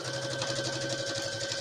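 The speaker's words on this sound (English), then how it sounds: "I'm stitching together my pockets now." A sewing machine stitches fabric pockets for a skirt, running steadily and close with an even, rapid mechanical hum and tick throughout.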